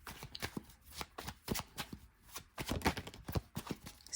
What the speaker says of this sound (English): Let's get into your tarot.